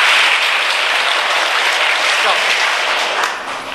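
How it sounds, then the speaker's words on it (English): A hall of engineering students claps together in one dense, loud burst of applause that holds steady, then begins to fade near the end. "Clapping is so powerful, you can do wonders just with clapping."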